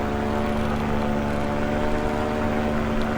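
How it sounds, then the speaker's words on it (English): A small airplane makes a quick flyby, its propeller engine droning loudly and steadily up close with a strong, even hum throughout. "Alright, one more quick flyby."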